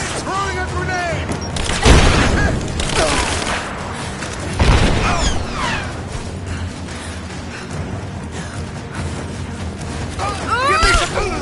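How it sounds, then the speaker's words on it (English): A grenade blast and gunfire in Rise of the Tomb Raider, with sharp booms near two and five seconds and scattered shots amid mechanical creaks and voices. "Throwing a grenade!"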